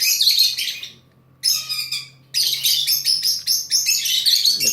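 Pet birds chirping indoors in a house, a dense run of high, rapid tweets and calls that stops briefly twice, then returns close and loud.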